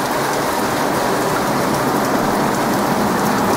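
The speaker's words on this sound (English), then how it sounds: "It sounds like a turbine or something. A jet engine." Steam venting from an electric power plant makes a constant, dense hissing roar like a turbine or jet engine, steady and loud throughout with no breaks or voices.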